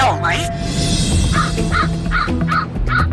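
A crow caws repeatedly in a steady series of harsh calls, fairly distant, over constant background noise and other faint sounds.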